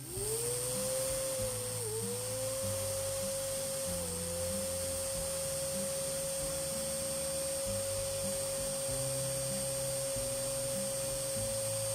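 A small cooling fan, switched on by a temperature controller, runs with a steady whine and hum. The pitch rises quickly at start-up, then holds level and continuous, close and alone, with no talk.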